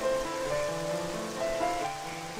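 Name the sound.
pouring rain in Twilight Princess video game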